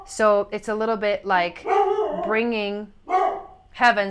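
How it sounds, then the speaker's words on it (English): A dog barks a few times in the background while a person keeps talking over it. "sorry about the barking"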